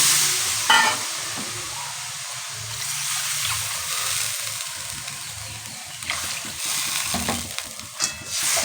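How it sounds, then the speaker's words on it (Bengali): Water is poured into a pan of frying potol chingri curry with potatoes that has cooked down until the oil separates, giving a loud burst of hissing and bubbling that settles into a steady, close simmering sizzle with stirring. "এবারে আমি এর মধ্যে দিয়ে দেব জল"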